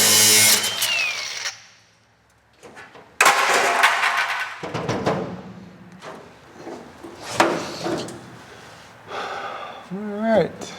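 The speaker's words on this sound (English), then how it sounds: "So I'll grab the cutoff wheel and we'll get at it." A cutoff wheel grinds into rusted metal above the windshield of a 1955 Chevy truck in loud, harsh bursts, stopping and restarting between cuts, with someone talking briefly.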